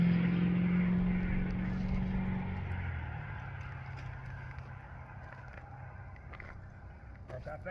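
Loud road traffic rumbles past at night, a steady low engine drone that is strongest at the start and then eases slowly into a continuous background roar, with no voices.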